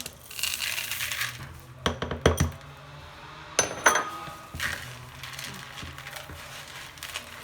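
Chocolate chips tumbling into a bowl of coconut cookie dough, a few sharp clusters of light clinks and rattles in two brief bursts, close and moderately loud over a quiet kitchen background.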